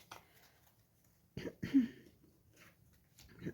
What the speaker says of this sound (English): I'm trying to very gently clear my throat in an ASMR-ish manner